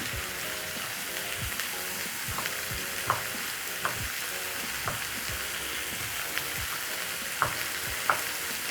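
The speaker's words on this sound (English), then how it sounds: "as my bacon cooks" Bacon frying in a pan for an omelette breakfast gives a steady close sizzle, with sharp utensil clicks and scrapes landing now and then over the crackle.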